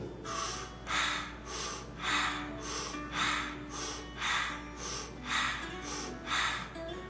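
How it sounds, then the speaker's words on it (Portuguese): Rhythmic, forceful breaths exhaled through a slightly open mouth during a breathing exercise, about seven even pulses roughly one second apart, close and airy with no talking. "E você solta o ar pela boca, assim, abrindo um pouco mais."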